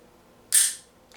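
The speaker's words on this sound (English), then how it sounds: "You can see no rounds in the chamber, in any of the 5 chambers. And you pull the trigger." A single sharp metallic click from the dry-fire trigger pull of an empty North American Arms .22 Short double-action mini-revolver, crisp and close against near silence.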